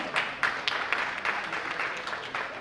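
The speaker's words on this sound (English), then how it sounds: "give her a round of applause" A gala fundraising audience at a scholarship dinner applauds a guest, scattered clapping that builds into a moderate, somewhat distant patter with a few sharper claps standing out.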